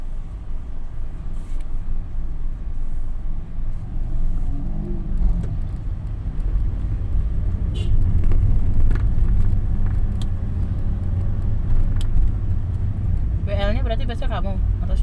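Cars idle and creep in a traffic jam, a close, steady low engine rumble that swells slightly midway. A person talks over it, and a brief clatter comes near the end.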